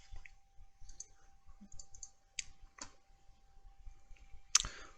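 Several sharp, quiet clicks at irregular intervals, like a computer mouse being clicked while working in City Designer 3 map-making software, with no talking.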